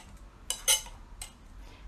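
A utensil stirs oat and banana cake batter in a bowl, producing a few sharp, quiet clinks and taps against the bowl in an irregular sequence, with near silence between them.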